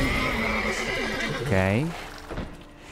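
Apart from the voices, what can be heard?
horses neighing in The Witcher 3 video game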